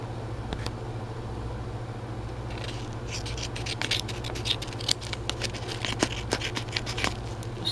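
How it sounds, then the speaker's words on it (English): Small scissors snip at a jewelry package alongside a steady low mechanical hum; a series of short, crisp clicks and scratches grows busier in the second half. "let's open it. I guess I'll use my little scissors."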